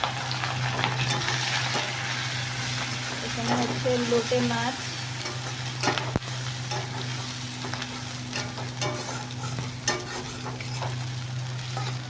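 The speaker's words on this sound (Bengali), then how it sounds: "এটা একটু ভাজা হোক" Dried lote fish (Bombay duck) sizzles steadily in hot oil in a pan, with stirring scrapes through the frying and a person speaking over it.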